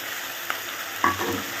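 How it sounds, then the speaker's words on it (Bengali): Fried ginger and a prepared spice paste cook in a pan with a constant close sizzle, broken by one brief stirring scrape near the middle. "আদাটা আমার ভাজা হয়ে গেলে যে পেস্ট তৈরি করে রেখেছিলাম সেই পেস্টটাও দিয়ে দিয়েছি"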